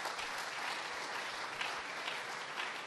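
An audience claps through a lecture in a sustained burst of dense applause, steady and fairly loud from start to finish, with no voice over it.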